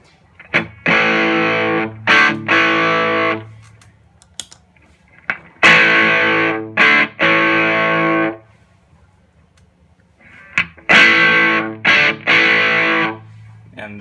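Electric guitar played through a TFA Effects Maple overdrive pedal, three bursts of crunchy overdriven chords and stabs separated by short pauses, loud and alone.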